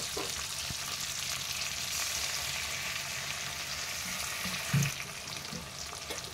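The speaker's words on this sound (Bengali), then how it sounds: "এইবার আমি বেটে রাখা সর্ষে এখানে দিয়ে দিচ্ছি।" Ground mustard paste hits a hot pan of cooked-down tomatoes for a pomfret mustard curry, giving a steady, close, hissing sizzle with a brief clunk near the end and no voices.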